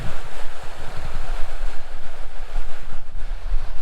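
Water in a neighborhood water feature in Boise, Idaho, flowing steadily as a close, continuous broadband rush with no talk over it.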